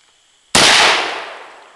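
A single sharp, loud gunshot from an SKS rifle cracks out nearby after a moment of quiet, followed by a long, fading outdoor echo.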